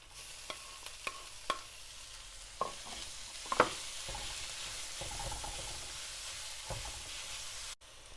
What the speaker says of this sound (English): just make sure that everything fries really well and the onion and the garlic turns a bit golden brown